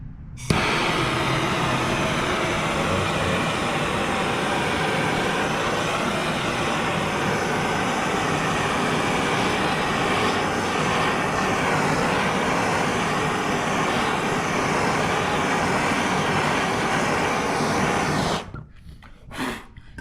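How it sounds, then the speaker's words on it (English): A MAP gas torch burns adhesive off a Foxbody car door molding, giving a loud, steady roaring hiss that runs nearly unbroken for about eighteen seconds before cutting out, followed by a couple of brief bursts. "Lots of fire is good, because that means you're burning off the adhesive"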